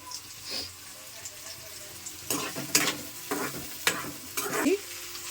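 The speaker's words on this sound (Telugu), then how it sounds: "ఫ్లవర్ని అయితే కాసేపు వేగనిద్దాము" Cauliflower for curry fries in a pan with a soft sizzle while a spoon stirs and scrapes it in a few distinct, close strokes and clinks.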